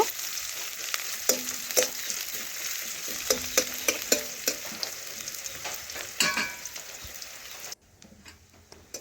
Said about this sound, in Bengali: এখন একটু খুরপি দিয়ে এইভাবে নাড়াচাড়া করে একটু ভেজে নেব